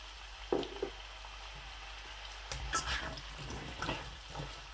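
Potatoes go into onions frying in ghee on moderate heat for aloo bhujia, giving a soft, continuous sizzle with a few faint clinks and shuffles of stirring, fairly quiet and close.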